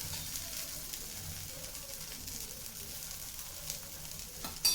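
Kodo millet dosa frying in oil on a pan, a steady soft sizzle running throughout with a slightly louder crackle near the end and no talking.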